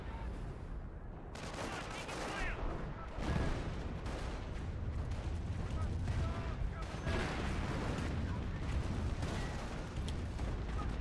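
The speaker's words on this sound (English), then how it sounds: "the artillery's about to hit on the rifleman's head" Howitzer and other artillery fire in a Company of Heroes 2v2 tournament match roars continuously with rumbling blasts and crackling gunfire layered densely throughout, loud and busy with no pause.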